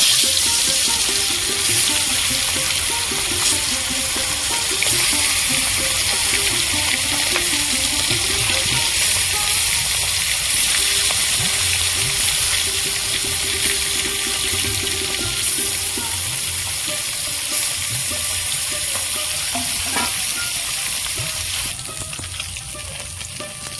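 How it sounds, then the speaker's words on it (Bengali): Bele fish frying in hot oil in a wok: a steady, dense sizzle and crackle runs throughout, with faint stirring and scraping beneath, easing slightly near the end. "তেল গরম হয়ে গেছে মাছগুলো ভেজে নেব"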